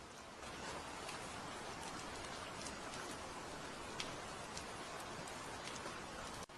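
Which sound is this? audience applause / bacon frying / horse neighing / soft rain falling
soft rain falling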